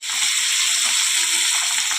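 Hot oil sizzles loudly and steadily as it is poured into a smoking hot wok, a dense crackling hiss starting abruptly and holding close without talk.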